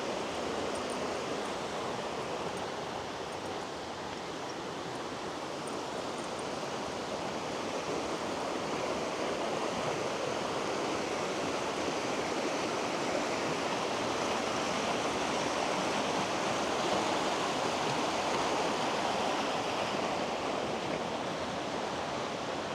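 A river rushes beside a hiking trail near Little Zig Zag Falls in Oregon, a steady, broadband rush of flowing water that stays constant and fairly close, with no voices.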